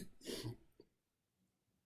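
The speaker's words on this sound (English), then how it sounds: "That cough doesn't sound good." A short single cough up close, then silence before another abrupt burst at the very end.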